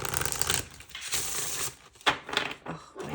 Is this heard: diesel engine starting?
no